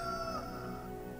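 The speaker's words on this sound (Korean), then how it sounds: "바로 닭울음 소리가 들려요." A rooster crows once as a sound effect, a sustained, harmonic call that is loud and close, with no talking over it.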